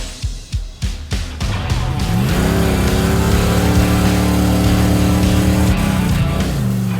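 A Plymouth Road Runner C-body car on a circle track: a few sharp revs first, then a loud, steady engine drone as it accelerates and holds speed close by, easing off near the end.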